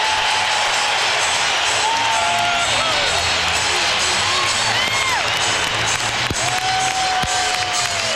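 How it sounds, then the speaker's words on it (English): A basketball arena crowd cheers for the Lakers during a 2003 NBA playoff game against the Minnesota Timberwolves, a dense, loud, continuous roar with scattered shrill whistles and whoops. "the crowd's happy with the Lakers"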